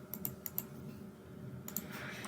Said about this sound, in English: The typing sound.